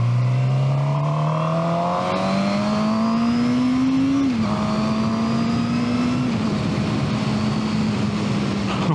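A Suzuki GSX-R 750 motorcycle engine revs loudly and close, its pitch climbing steadily through the gears with brief dips at each shift, then holding a high, steady drone. No one talks.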